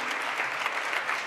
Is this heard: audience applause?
yes